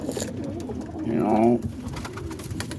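Outdoor roller pigeons cooing, one clear throaty coo near the middle, over faint background noise and a bit of talk.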